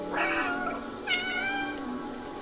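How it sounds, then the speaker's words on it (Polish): Two cat meows from the video game Stray, one short and one longer and rising, clear and moderately close against a quiet background with no talk. "pod altem można miałknąć"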